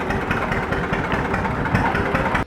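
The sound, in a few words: John Deere Model D two-cylinder tractor engine running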